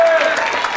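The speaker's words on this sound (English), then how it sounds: "he's got quite a cheering section I see tonight" Brief burst of audience applause and cheering for a saxophone soloist at a winter school band concert, with a voice speaking over the clapping.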